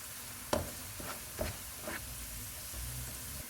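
Ginger garlic paste is stirred into frying onions in a pan, with several separate scraping strokes over a soft, steady sizzle, close and fairly quiet.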